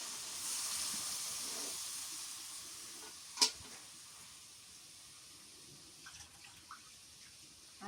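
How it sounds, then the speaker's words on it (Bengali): Water is poured into a pot of beef cooking with bottle gourd, making a soft rushing hiss of pouring and sizzling, then one sharp clink and a few faint bumps as the pot settles. "কষানো হয়ে গেছে, এখন তেলের পানি দিয়ে দিই।"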